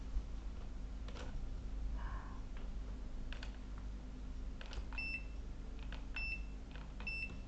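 Beeps from a multimeter in continuity test mode while probing a laptop motherboard, a few short, clear tones near the end over a steady hum, with some clicks and handling noise.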